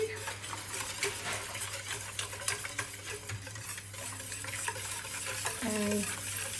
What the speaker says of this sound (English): we just keep whisking until it starts to thicken